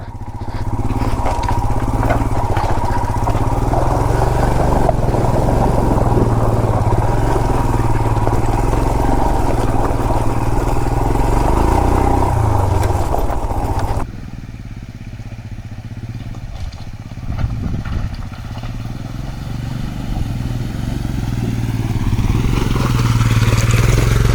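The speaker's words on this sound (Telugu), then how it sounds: "second river crossing on Himalayan 411" A Royal Enfield Himalayan 411 motorcycle crosses a river off-road, its engine droning steadily and loudly with water splashing and clattering. Partway through it drops briefly to a lower rumble before rising again.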